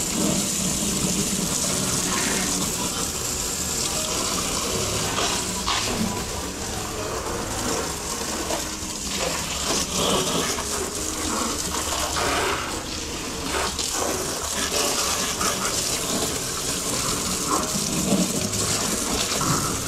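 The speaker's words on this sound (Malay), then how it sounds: "kita dah setapkan full, jadi kita siram dengan air baik. Siram kali saja sekali dengan rok-rok semua." Fishing reels and rods are rinsed under running water, a loud, continuous gushing spray that lasts throughout with no pauses.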